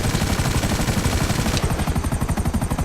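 Savage attack helicopter's cannon in GTA Online firing in a fast, continuous burst of loud, rapid thuds, with a slight change in tone partway through and no talk.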